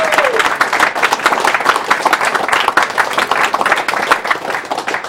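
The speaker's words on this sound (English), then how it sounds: "In case if we haven't clapped enough." An audience applauds at the Awesome Games Done Quick charity speedrun marathon during a Super Meat Boy run, with dense, sustained clapping filling the room at steady loudness throughout.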